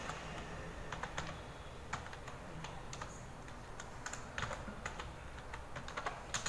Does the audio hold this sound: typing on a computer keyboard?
yes